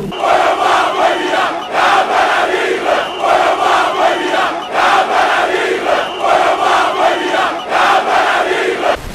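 Excited crowd at an election campaign rally in Yaoundé on the last day of campaigning, loud rhythmic chanting and cheering in repeated surging waves, with no talk over it.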